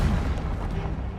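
Fire spell Incendio cast in Hogwarts Legacy, giving a dense, steady roaring burst with heavy low rumble that fills the whole moment without a break.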